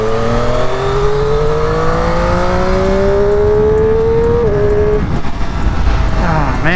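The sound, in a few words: Triumph Moto 2 Daytona 765 motorcycle engine revving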